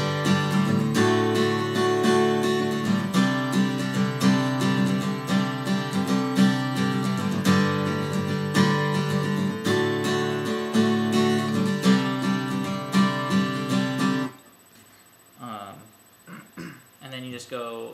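A guitar strums the chorus of a song, with steady, full-bodied chords rhythmically repeated for about fourteen seconds, then dropping away as a person starts talking.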